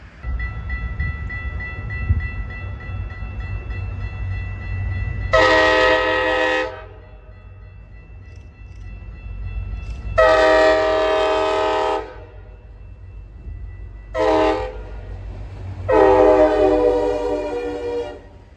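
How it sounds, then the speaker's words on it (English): An outbound Metra commuter train led by an MP36 locomotive sounds its loud horn in four blasts, two long, one short and a final long one, over a low rumble of the passing train. "an outbound Metro number 2111, led by Metro 414 and MP 36 with a loud horn."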